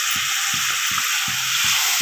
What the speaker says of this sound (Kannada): ಸ್ವಲ್ಪ ಎಣ್ಣೆಲೇ ಬಾಡಿಸ್ಕೋಬೇಕು ನಾವು. ಎಣ್ಣೆಲಿ ಬಾಡಿದರೆ ಸಾಂಬಾರು ಚೆನ್ನಾಗಾಗುತ್ತೆ